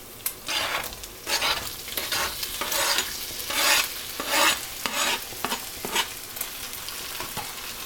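Tomatoes sizzle and fry in a pan of bitter gourd masala while a spoon stirs them in repeated scraping strokes, the crackle close and continuous with no voices.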